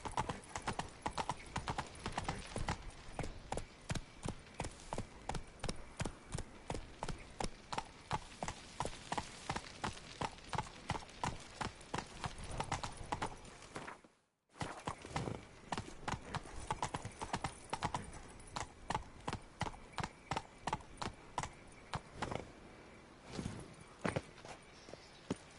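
Roach the horse's hooves clip-clopping steadily in The Witcher 3, a fast, even rhythm of close, crisp hoof strikes that runs almost without a break, with one brief silence midway.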